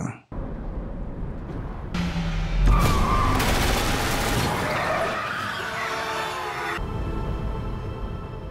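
Gunmen open fire on a car on the road in an action film, a loud sustained burst of shots mixed with tire skids and engine noise, thick and chaotic throughout under the film's soundtrack.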